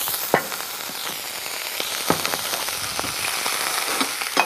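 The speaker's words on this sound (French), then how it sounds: "Tout de suite, je vais pouvoir déglacer, comme je vous disais tout à l'heure, avec un peu de vinaigre." Vinegar poured into a hot pan to deglaze it sizzles steadily, with a broad hiss and scattered sharp crackles and pops throughout.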